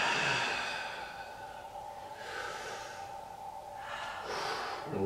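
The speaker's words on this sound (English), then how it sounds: "Last two breaths here." Deep, slow breathing during a chair shoulder exercise, close and fairly soft, with long airy inhales and exhales swelling and fading across the clip, no talk.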